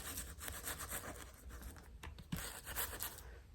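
Soft, steady scrubbing of a brush worked through wet white acrylic paint, a dense rubbing texture close to the mic that runs continuously with small bursts, no voices over it.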